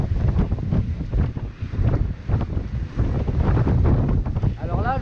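Strong 27-knot wind roars and buffets the microphone on a Dufour 375 GL sailboat sailing close-hauled, with water rushing beneath and a voice faintly audible under the gusts.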